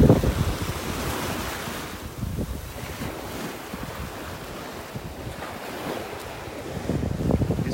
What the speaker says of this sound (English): These waves have been slowly chipping away at the beach here.